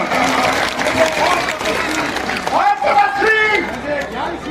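Crowd applause at a Dussehra festival performance of a Ram–Ravan battle enactment, broad clapping mixed with cheering and voices over a noisy open-air crowd, loud and continuous.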